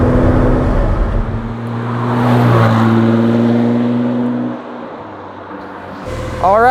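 A 2019 Ford GT Carbon Series engine idles close by with a steady, deep mechanical rumble that swells slightly, then drops back and rises again near the end, with no talking.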